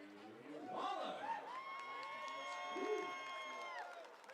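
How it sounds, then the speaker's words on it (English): A crowd cheers and shouts in a baseball stadium as a University of Nevada, Reno second baseman steps up to bat at a Portland Pickles vs. Ridgefield Raptors game, a steady roar with a sustained tone ringing over it. "Waller got quite the cheering section here at the stadium tonight from the University of Nevada, Reno"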